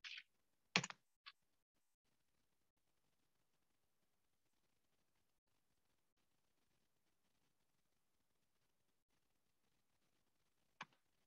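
A few quick computer keyboard keystrokes in a quiet room, three close taps at the start, then a long silence and one final isolated keypress near the end, faint and alone.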